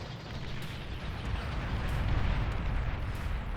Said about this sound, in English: we see Clara actually going in for a bombing run